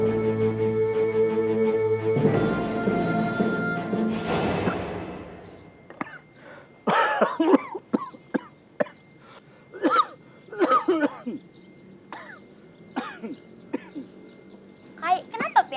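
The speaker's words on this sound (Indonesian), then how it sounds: "kenapa pian batuk?" A person coughs and chokes in several harsh, sputtering bursts spread across the stretch, close by and separated by short gaps, following a loud musical passage at the start.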